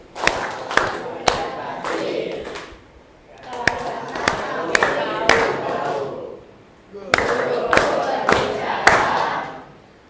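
A classroom of students performs the rhythmic concentration clap, tepuk konsentrasi, in three bursts of patterned group clapping and thumping mixed with children's chanting voices, separated by short pauses.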